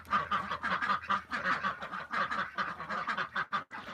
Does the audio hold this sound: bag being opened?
no